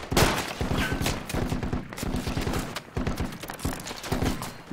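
Dense gunfire in the military shooter game Project Reality, rapid rattling bursts of automatic shots overlapping continuously, loud and close.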